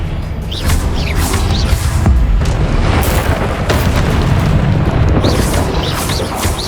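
Confringo explosion spells in Hogwarts Legacy go off as repeated loud booming blasts with crackling bursts and magical whooshes, dense and continuous over combat noise.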